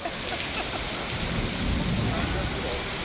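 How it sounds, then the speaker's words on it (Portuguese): A thunderstorm with heavy rain, strong wind and hail hits Suzano in the São Paulo metropolitan area, making a dense, steady roar of rain and wind with a deeper rumble swelling in the middle. "O temporal chegou com ventos fortes e granizo."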